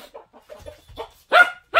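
Chickens being chased and herded by a young puppy cluck in short, scattered bursts, ending with two louder squawking calls close by; no voices over them.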